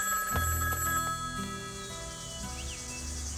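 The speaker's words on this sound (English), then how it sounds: "It's just a payphone, sir." A payphone rings with repeated electronic trilling bursts, fairly close and clear, among a few low thuds and background noise, with no talk.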